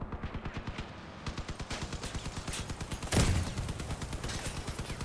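Vehicle cannons fire in the video game Crossout, heard as a rapid, even burst of repeated shots that keeps going throughout, with one louder, heavier blast partway through.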